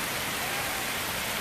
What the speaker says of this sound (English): It has been nothing but pouring down rain here in the woods.